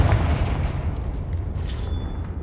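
A Confringo blast spell goes off in the video game Hogwarts Legacy, a heavy low boom with a rolling rumble, followed by a bright shimmering magical flourish near the end, close and alone without speech.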